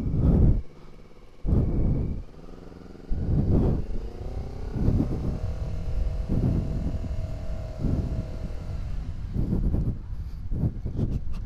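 A Honda CBR250RR motorcycle pulls away as the throttle opens, a loud close engine roar in repeated surges with gear changes and rising revs, buffeted by wind rumble.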